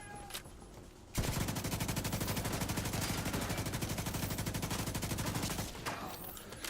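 Light machine gun in The Division 2 fires one long sustained burst of rapid, evenly spaced rounds, loud and close, lasting several seconds before stopping abruptly.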